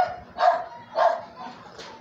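A dog barks three times at a steady pace, moderately close, the last bark softer.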